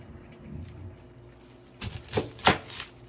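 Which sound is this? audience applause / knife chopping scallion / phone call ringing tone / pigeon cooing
knife chopping scallion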